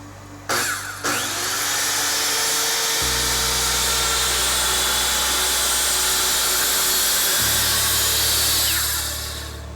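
A power saw blade on a Kreg crosscut station cuts through a cafe board of wood, with the motor spinning up, a long steady loud cutting whine, then winding down, close and without talk.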